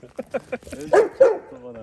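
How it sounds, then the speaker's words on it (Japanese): A dog at an outdoor leisure ground in Doshi village barks several times in quick succession, with louder yips and whimpering tones and a person talking over and between them. "あそこで猛犬が鳴いてます。"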